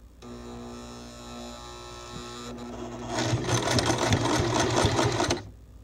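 A sewing machine hums quietly at first, then runs slowly with a loud, steady rattling stitch rhythm for about two seconds before stopping, while its thread keeps unthreading from the needle or breaking.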